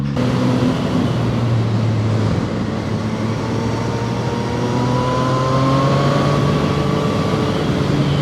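Zontes 703R motorcycle ridden through twisty roads, its engine droning steadily with rising and falling pitch as it accelerates, loud and close over constant wind rush, no voices.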